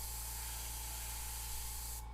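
An airbrush sprays paint in soft dagger strokes for a tattoo-style skull and water custom paint design, a close, steady hiss that cuts off near the end.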